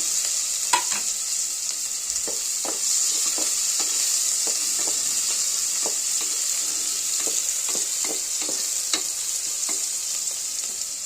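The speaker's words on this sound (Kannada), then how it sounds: "ಎಣ್ಣೆ ಬಿಸಿ ಆದ ನಂತರ ಈರುಳ್ಳಿ ಹಾಕ್ತಾ ಇದ್ದೀನಿ" Sliced onions fry in hot oil in a cooker for a palak mutton gravy, giving a steady close sizzle with regular stirring clicks and scrapes throughout, no talking.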